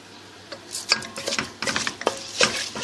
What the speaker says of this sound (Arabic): وهقلب فيه لحد اما ايه ينشف شويه